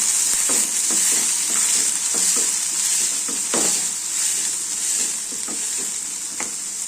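Chopped tomato and green peas fry in a pan with a bright continuous sizzle, broken by repeated scraping strokes of a spoon stirring the mixture, close and fairly loud with no talking.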